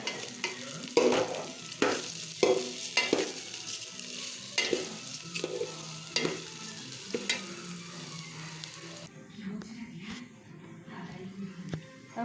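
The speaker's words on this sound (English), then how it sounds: "Now stir it." Steady frying sizzle as washed scented rice fries in ghee, with repeated scraping strokes of a utensil stirring it in a pan, close and continuous, no talking.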